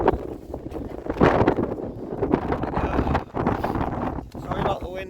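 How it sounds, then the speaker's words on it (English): Gusty wind buffets the microphone on a mountain peak, loud and uneven throughout as people talk close by. "Sorry about the wind if you can't hear us."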